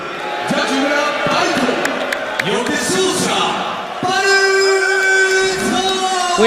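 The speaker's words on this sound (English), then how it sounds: "We heard some boos in the crowd and some claps" Crowd noise at a live MMA bout between Tsuyoshi Kosaka and Baruto, a loud continuous mix of boos, whoops and claps from a large audience, swelling at points and filling the whole stretch.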